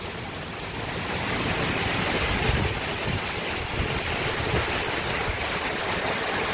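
Loud, steady rush of water with a broad hissing wash of heavy monsoon rain in Banaskantha, India, pouring off a tin roof and streaming nearby, no voices.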